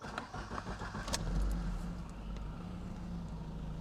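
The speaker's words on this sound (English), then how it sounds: "just check them in neutral and I'll get it started up for you" A 1.8-litre Alfa Romeo 155 from the 1990s cranks briefly and catches, settling into a steady, low idle that stays close and fairly quiet with no talking.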